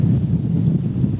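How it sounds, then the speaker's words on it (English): Gusty wind on a sailboat on a day of 19-knot winds gusting toward 29, heard as a steady low roar buffeting the microphone, with no voices. "It is a windy, gusty day today."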